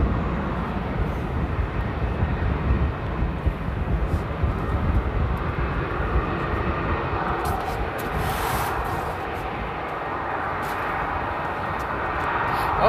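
An airliner taking off from runway 18L at Amsterdam Airport, a continuous loud, broad engine roar that holds steady throughout with no talk.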